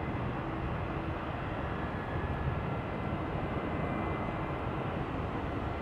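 An Air France Boeing 747 lands at San Francisco International Airport, its broad jet-engine roar steady and continuous, heard from a distance without a clear peak.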